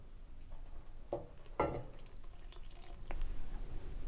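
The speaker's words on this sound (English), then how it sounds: "now we're pouring the coffee gently over the top" Coffee is poured gently over lava cake batter in a skillet, heard as a few brief, quiet splashing pours against a soft kitchen background.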